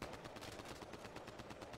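Gunfire in Mass Effect Andromeda: a rapid, steady burst of automatic shots in quick rhythmic succession, faint and distant, with no talk.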